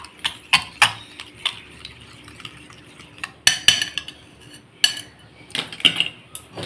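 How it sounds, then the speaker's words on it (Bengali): Eggs beaten with sugar in a bowl by hand, producing a loose run of clinking, scraping utensil strikes against the bowl, some sharp and bright, others softer, close and unaccompanied by speech. "আমি এইভাবে ভালোভাবে চিনির সাথে ফাটিয়ে নিচ্ছি।"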